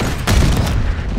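A flashbang grenade detonates in Call of Duty Black Ops 6, a loud sharp boom followed by a ringing, dense burst of noise that fades over about a second.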